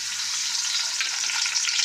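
Crushed small shallots hitting hot oil with mustard seeds, a dense, loud, continuous sizzle and crackle that stays steady throughout.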